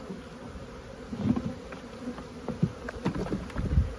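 Honeybees swarm around commercial beekeepers' hives in Texas, a dense, continuous buzzing close by with individual bees droning past now and then.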